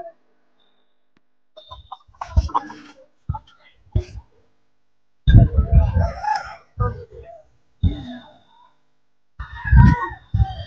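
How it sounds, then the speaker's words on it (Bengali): A rooster at a village market in Purulia gives intermittent crowing and clucking bursts close by, separated by short silences, with faint voices in between. "দারুণ কিন্তু মুরগটা আছে, একদম সলিড"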